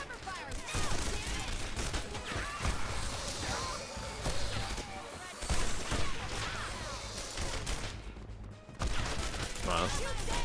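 Sustained gunfire in the game Red Faction: Guerrilla, a busy fusillade of shots and impacts running throughout under someone speaking, with a brief dip before the firing resumes.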